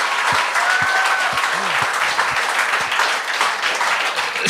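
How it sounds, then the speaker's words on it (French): Studio audience applauds a stand-up comedian on a televised amateur comedy show, a dense, steady burst of clapping filling the whole stretch, with a few brief voices and a whoop poking through. "Chris, on peut l'applaudir"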